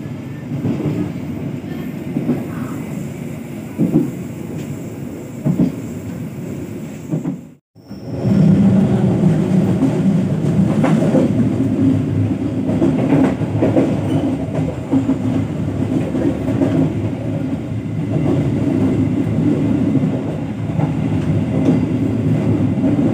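A local Cibatu train runs along the rails, heard from inside a passenger car as a loud steady rumble with faint rhythmic clacking, broken once by a brief dropout before the roar resumes.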